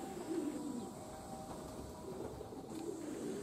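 Pigeons cooing softly and steadily near a rooftop loft on a warm summer evening, the low calls repeating over a faint, continuous outdoor hum, with no voices present.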